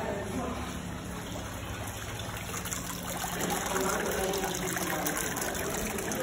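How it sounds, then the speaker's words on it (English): A water fountain trickles steadily in a pottery and mosaic showroom in Fez, a continuous gentle splashing flow heard close and evenly throughout. "So you have water fountains,"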